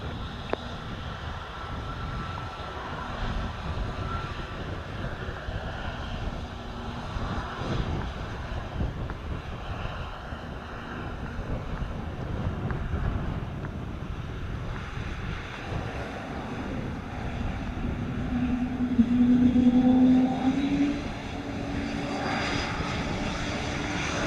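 Frontier airliner taking off from runway 07 at Sangster International Airport, Montego Bay, Jamaica, a long rumbling engine roar mixed with gusty wind, swelling louder toward the end.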